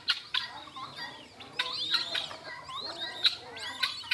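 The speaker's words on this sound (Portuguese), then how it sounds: "Quem tá gostando muito são as galinhas aqui, ó." Chickens on a rural farm cluck and chatter in a busy, irregular series of short calls, close by, with a little murmured talk underneath.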